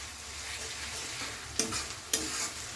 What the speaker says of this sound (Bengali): আমি এভাবে নাড়িয়ে নিচ্ছি রসুনটা দিয়ে